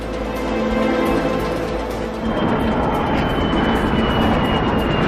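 A fixed-wing aircraft flying a zero-gravity parabolic flight roars steadily and loudly as it accelerates upward at about 1.8 G, with the engine noise filling the cabin and no speech.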